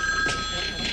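A telephone rings indoors in a home, a brief high steady electronic tone under faint background voices, heard for only a moment.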